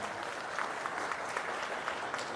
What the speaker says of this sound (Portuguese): Vamos dar uma salva de palmas a essa família